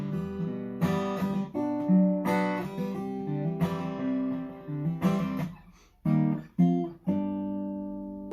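Acoustic guitar strumming a verse chord progression, with repeated strummed chords in a steady down-up pattern and brief pauses between changes, close and clear with no talking.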